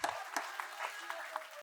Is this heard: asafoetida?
no